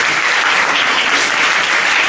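Dense, steady applause from a room of students rewarding a correct quiz answer, loud and unbroken for the full length with no voices over it.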